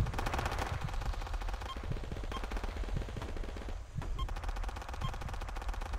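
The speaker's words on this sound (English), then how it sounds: "I can hear them shooting at you" Machine gun fire in the Project Reality war game, rapid sustained bursts of loud rattling shots in a dense steady rhythm, with a short pause near the middle before firing resumes.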